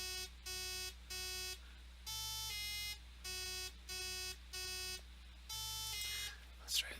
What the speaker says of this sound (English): Now let's go to jagged wave.